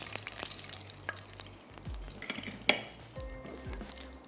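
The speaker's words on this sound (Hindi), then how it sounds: "थोड़ा सा चमचा चलाते हैं।" A spoon stirs garlic-ginger paste frying in a pan: a soft, constant sizzle with scraping strokes and a sharp clink of metal partway through, quiet and close, with no talking.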